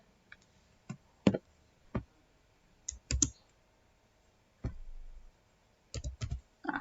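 A computer keyboard clicks sparsely and quietly as a command is typed, with single keystrokes and short clusters of taps separated by pauses.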